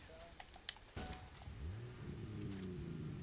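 A car engine in the Fortnite video game starts up and then runs with a steady low rumble that rises slightly in pitch, preceded by a few brief clicks and clunks.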